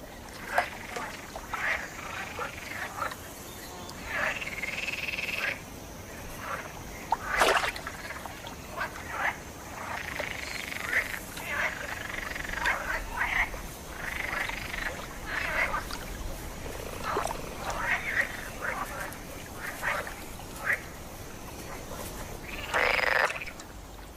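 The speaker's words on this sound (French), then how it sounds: "Ces inlassables choristes sont des grenouilles vertes" Male green frogs call in a steady chorus at a forest pond, irregular croaks and rattling bursts overlapping at moderate distance, with one louder call near the end over a quiet watery backdrop.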